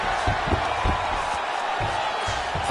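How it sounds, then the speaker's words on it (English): Arena crowd at a UFC event roaring and cheering after a grueling ground grappling exchange, a dense, steady wash of many voices with a few sharp thumps poking through. "you heard the crowd pop after that grueling ground battle"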